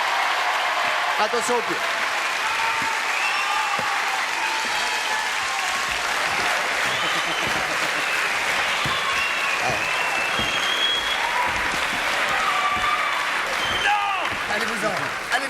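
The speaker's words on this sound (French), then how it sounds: "Applaudissements." A French TV studio audience gives sustained, dense applause that fills the whole stretch, loud and close, while a host and guests talk over it.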